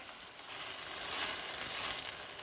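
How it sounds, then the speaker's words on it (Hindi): Ground garlic, ginger and onion paste fries over low heat in a pan for white mutton korma, a continuous close hiss and sizzle that swells slightly midway and holds steady. "इसमें जो लहसुन अदरक प्याज पीसा है इसको डाल लेते हैं"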